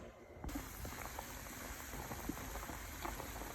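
A saucepan of palm nuts for palm nut soup boils steadily nearby, soft bubbling and popping over a low rumble, with scattered brief pops throughout.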